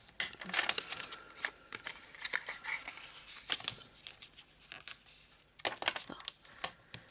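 Paper being creased and folded by hand while making a glueless self-closing box, with close crinkly rustles and sharp creasing swipes in irregular bursts, and faint voice now and then.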